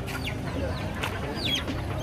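Village chickens cluck repeatedly at a busy vegetable market in Jaffna, close and fairly loud over a constant crowd murmur.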